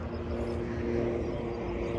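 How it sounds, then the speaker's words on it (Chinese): A steady, droning engine roar fills the air without pause, the low hum of an airplane passing overhead near the Jezreel Valley, Israel. "飞机飞过去喽"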